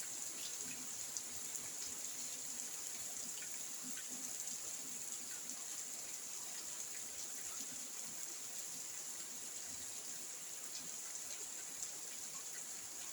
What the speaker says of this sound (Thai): ฝนตกลงมา